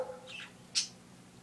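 Birds outdoors give a few quiet calls: a short chirp near the start, a brief trill, and one sharper squawk-like note partway through, all faint over a low steady background.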